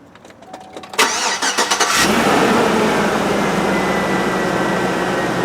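A 2004 Cadillac Escalade engine cranks with a few rapid starter pulses, catches after about a second and then settles into a loud, steady idle close by.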